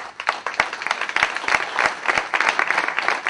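Audience applause at a conference event on simulations and serious games, loud and sustained with many overlapping claps and a few distinct sharp hand strikes.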